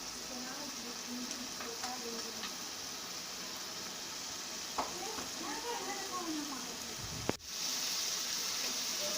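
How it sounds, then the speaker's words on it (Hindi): Chicken frying with spices in a pan for spicy chicken tikka macaroni, a steady close sizzle throughout with faint scrapes of stirring and a brief clatter near the end, then louder hissing. "अब हमने मसाले के साथ चिकन को फ्राई करना है अच्छी तरीके से"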